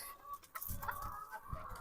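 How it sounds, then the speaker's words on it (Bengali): Chickens on a large poultry farm cluck softly at a distance, with a low, busy murmur of birds and a few louder clucks rising above the background. "এই যে পুরো এরিয়াটা নিয়ে মুরগি আর মুরগি, শুধু মুরগি, বিশাল ফার্ম এখানে মুরগির"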